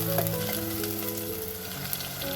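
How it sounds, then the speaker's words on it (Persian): Finely chopped chicken breast sizzles in a pan of frying onions, a steady, close, crackling hiss that runs throughout with faint stirring scrapes and no talk. "حالا 2 تیکه سینه مرغ که ریز خورد کردیم و به پیازمون اضافه میکنیم"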